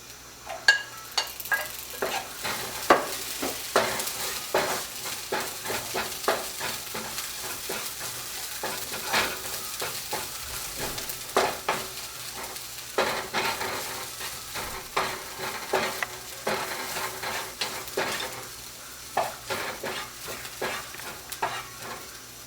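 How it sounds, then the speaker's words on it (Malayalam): Onions sauté in a pan for a Kerala fish dish, giving a soft continuous sizzle broken by repeated scraping and stirring strokes at an uneven pace, with no voices. "നന്നായി വഴറ്റിയെടുക്കാം സവാള വഴന്നു വന്നിട്ടുണ്ട്."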